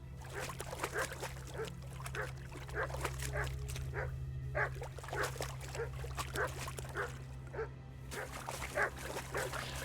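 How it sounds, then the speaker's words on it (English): A dog barks and yips in the game Kingdom Come: Deliverance II, short repeated bursts at moderate distance over a steady low drone, continuing through the whole stretch. "I don't want to have to listen to you barking the whole time."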